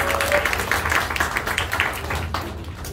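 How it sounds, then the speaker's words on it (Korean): An audience applauds at a Korean presentation on a compensation plan, a dense, steady patter of many hands clapping at close range for a few seconds. "바꾸시라고 박수 부탁드리겠습니다."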